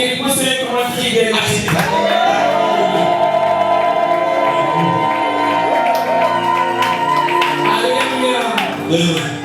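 Church congregation at a Sunday service shouting, cheering and clapping loudly together, a dense sustained roar of many voices with tonal singing-like cries and scattered claps, close and full throughout.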